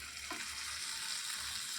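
Butter and pav bhaji masala fry together in a pan, giving a quiet, continuous sizzle with a small spatula touch early on and no talking.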